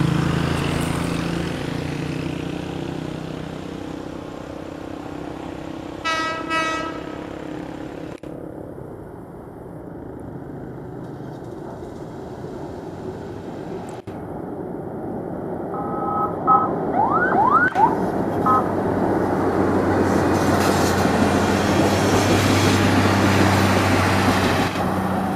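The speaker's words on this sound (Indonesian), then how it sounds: "Kereta KIS 3 meluncur ke arah stasiun Manon Jaya" White-and-green KIS 3 inspection train crossing the Cirahong railway bridge, a broad rumbling roar that swells in the second half, with two bursts of horn-like tonal calls, one early and one later, heard outdoors without talk.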